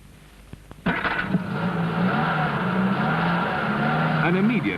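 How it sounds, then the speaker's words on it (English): A BMC Maxi engine cranks and fires at once in severe cold, then settles into a steady, loud running drone that continues to the end with no talk over it. "An immediate first-time start and back on the road."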